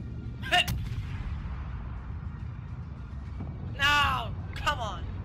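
Ship cannons firing in the naval combat video game World of Warships, a few sharp booming shots spaced apart over steady low background rumble.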